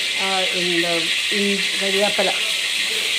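Curry leaves drop into hot oil in a pan while making vendakka (okra) curry, giving a steady, even sizzling hiss that runs throughout beneath a person talking.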